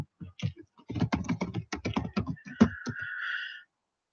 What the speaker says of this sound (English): Let me type that in the chat.